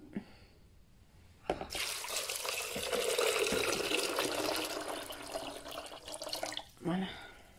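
Water poured from a container onto peanuts for homemade plant milk, a steady splashing pour lasting several seconds, close and soft, with a brief voice before and after.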